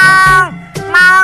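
A human voice imitates a cat in heat, producing two loud, drawn-out wailing meows with a brief break between them, close and alone.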